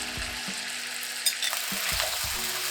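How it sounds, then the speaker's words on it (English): Diced potatoes frying in hot mustard oil with turmeric in a pan, a steady close sizzle broken by a few sharp knocks and scrapes of stirring. "I'm going to lightly fry the potatoes"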